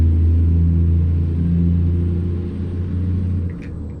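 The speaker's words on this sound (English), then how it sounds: "If the engine RPM falls quickly, you can get to that next gear that much quicker." A truck engine in American Truck Simulator rumbles steadily and loud, a low drone holding through the stretch and easing slightly near the end, without any sharp rev climb.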